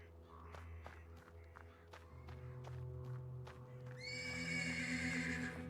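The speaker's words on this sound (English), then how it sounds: "The persistent neighing of a horse can be heard from the stables." A horse whinnies loudly from stables in the video game Black Book, over a low ambient backdrop, with soft hoof steps and thuds; no talking.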